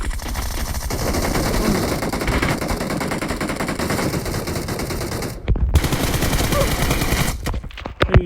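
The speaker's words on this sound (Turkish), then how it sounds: "ben kaç kere bomba patlattım" Sustained rapid automatic gunfire from an online shooter video game fills the whole stretch, dense and loud, with a brief break near the end before more shots and bursts resume.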